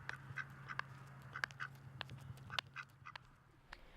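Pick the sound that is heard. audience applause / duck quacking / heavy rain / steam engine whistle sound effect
duck quacking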